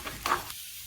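Whole red chillies and curry leaves roast for sambar in a pan, giving a brief soft sizzle and a stirring scrape that fade into quiet.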